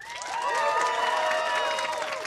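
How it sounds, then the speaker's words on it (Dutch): Audience applauding and cheering at a live concert at Villa Vanthilt, a steady loud wash of clapping and whoops with bright whistles, swelling and holding throughout, no talk over it. "Applaus voor Sylvie."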